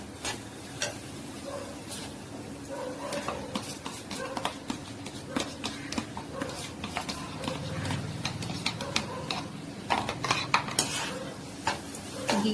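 Semolina and mango pieces being stirred in ghee in a pan, a steady scraping and clinking of a spoon against metal with a soft sizzle underneath, close and moderately loud, continuing throughout.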